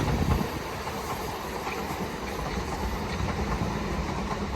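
A Class 450 Gatwick Express train passes through Clapham Junction station at night. Its loud, steady rumble of wheels and rail fills the whole stretch without a break.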